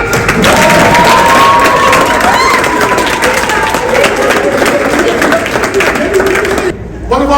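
A loud crowd at a youth awards ceremony cheers and applauds with whoops and shouts over dense clapping, sustained at full volume before dropping off abruptly near the end.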